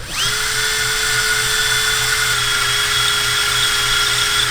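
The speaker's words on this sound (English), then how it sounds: "I got the dullest drill bit" A power drill with a dull bit whines steadily at high speed, grinding into metal on a BMW E30, with a continuous, loud mechanical drone throughout.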